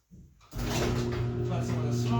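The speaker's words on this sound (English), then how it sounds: "So I'm going to open the door." A garage door opens, a brief low rumble followed by a loud steady mechanical drone that fills the space and continues to the end, with no talk.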